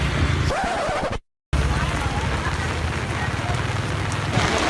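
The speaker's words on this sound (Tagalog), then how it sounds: "Ug sa dihang ni ulan." Rain falls on a city street during a street festival, a dense continuous hiss with crowd babble and a voice speaking over it, interrupted by a brief cut.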